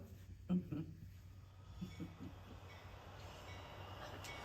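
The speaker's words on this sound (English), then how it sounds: "I think I see the train coming." A train approaching as a radio drama sound effect, a low steady rumble under faint background voices with a brief thump near the start.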